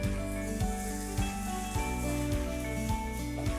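Eggplant fries in a pan of hot oil with garlic, salt and pepper, a steady crackling sizzle beneath a loud, repeating musical backing.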